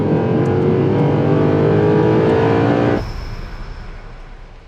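A Mercedes-Benz SLS AMG Black Series roars loudly at high revs on a big, fast race track. After about three seconds the engine note drops to a quieter, rumbling drone.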